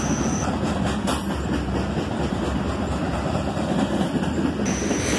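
A CSX mainline train with a road slug locomotive rolls by close and loud, a continuous roar of wheels with rhythmic clatter and a thin steady tone above.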